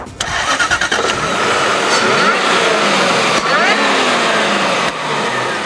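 A Jaguar S-Type R's supercharged 4.2-litre V8 starts with a stuttering crank, then settles into a loud, close, steady rev with a couple of brief dips, with no talk over it.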